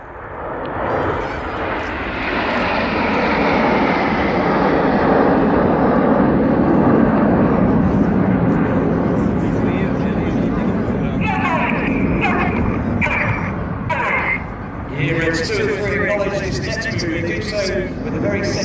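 Red Arrows jets fly a display at the East Fortune airshow, a loud roaring rush building and sweeping past, with crowd noise and a commentator's voice heard over it toward the end.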